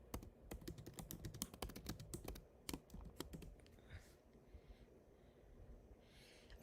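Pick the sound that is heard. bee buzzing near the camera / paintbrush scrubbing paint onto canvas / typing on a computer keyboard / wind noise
typing on a computer keyboard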